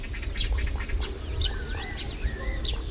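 Waterbirds call in the evening at a seaside village on Geumodo island, a few short honking and whistling notes over a steady low background murmur, no talk.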